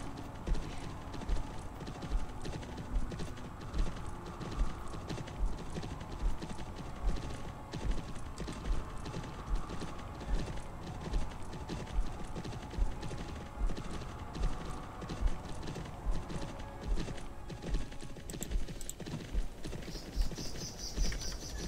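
Rhythmic horse hooves clip-clop steadily while riding in the fantasy game Champions of Regnum, a continuous galloping beat with faint mechanical clinks and a brief whinny-like tone, no talking.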